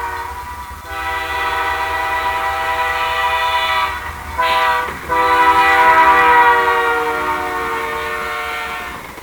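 Radio drama sound effect of a train whistle sounding in long, loud, steady blasts, with a brief break midway before a stronger blast swells and trails off, as the train passes.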